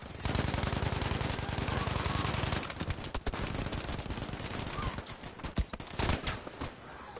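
Gunfire in the video game Battlefield V comes in dense, rapid automatic bursts. The shots are heavy and loud at first, then grow more scattered and uneven toward the end.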